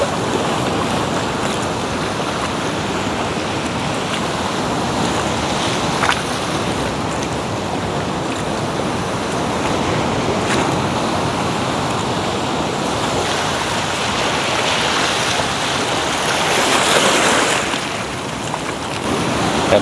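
Rough sea waves surge around a fishing boat, with continuous rushing surf and heavy wind buffeting the microphone, swelling louder toward the end.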